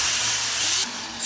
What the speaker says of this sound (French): ce que je fais, j'active la perceuse, elle a eu un petit bouton pour la bloquer